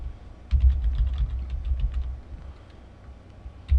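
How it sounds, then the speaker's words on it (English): Close, quick keystrokes tap on a computer keyboard in a short burst, then slow to scattered clicks before another press at the end. "Okay, so I'm going to type Portland."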